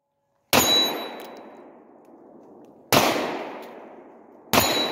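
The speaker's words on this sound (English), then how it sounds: "Hit all 3 targets. 3 shots on each target. Keep shooting." Three sharp, loud gunshots from a CZ Scorpion or Glock 19 fired at shooting targets, spaced a couple of seconds apart. Each crack leaves a long ringing decay between shots, and there is no talking.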